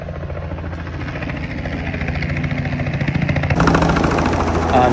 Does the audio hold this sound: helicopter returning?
yes